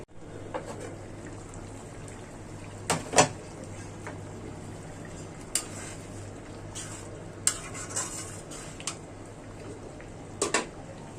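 Prawn heads coated in spices frying in a pan, a continuous low sizzle broken by several sharp scrapes and clanks of a spoon against the pan, close and without speech.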